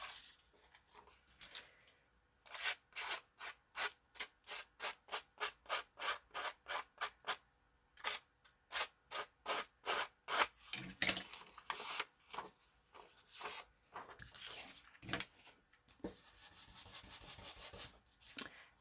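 A pin design's edge is roughened by hand with rapid back-and-forth rubbing strokes, close and crisp in quick bursts of rhythmic scratching, with brief pauses between runs and no talking.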